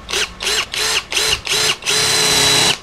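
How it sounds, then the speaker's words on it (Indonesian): DongCheng DCJZ2040i13 cordless impact drill running in drilling mode at speed 2: five short whirring bursts in quick succession, then one longer sustained run, loud and close with no talk. "Mode drilling, speed 2."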